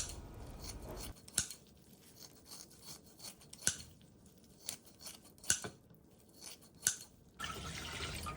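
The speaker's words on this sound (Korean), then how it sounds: "기다란 미역줄기를 한입 크기로 잘라주세요." Scissors snip long, salted seaweed stems into bite-size pieces in a kitchen, several sharp, crisp cuts spaced irregularly over a quiet background, with faint wet handling between snips.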